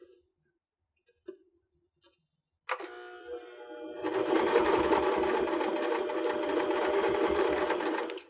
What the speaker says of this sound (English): Now we'll take it over to the machine and top stitch along both length sides to hold the folds in place.